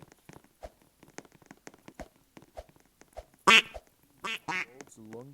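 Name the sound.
ducks quacking in a video game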